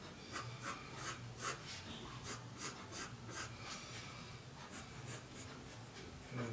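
Pencil drawing on paper, a steady series of short scratchy strokes in a regular rhythm, close and quiet, with no voice.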